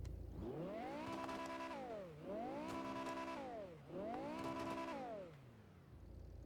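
BMW F10 M5 V10 engine in a modded GTA 5, revved three times in succession, each rising to a sustained high howl before dropping back, loud and close.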